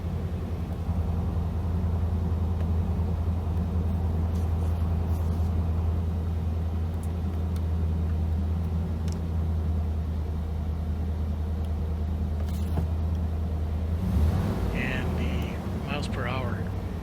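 An OBS-era Chevy pickup truck engine idles steadily after starting, a constant low rumble running the whole time, with brief voices near the end.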